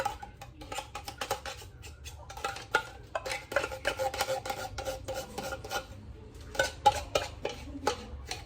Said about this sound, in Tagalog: Pagkatapos natin ilagay lahat, haluin